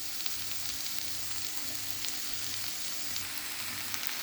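Cabbage hitting a pan of onion and carrot cooked until translucent, giving a steady, close, even sizzle with faint crackles throughout and no voices.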